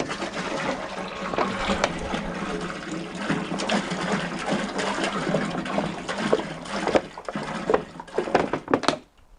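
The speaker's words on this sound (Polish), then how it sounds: "E, nalewamy wodę." Water glugs and splashes steadily as it pours from bottles into a container, a continuous gurgling stream that stops abruptly at the end.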